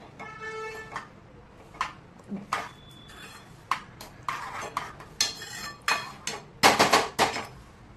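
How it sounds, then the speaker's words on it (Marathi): A ladle stirs dal with butter in a cooking pot, giving irregular clinks and scrapes against the metal, some sharp and close, a few clustered near the end, with a voice heard briefly early on. "डाळ हलवून घेऊया चांगली"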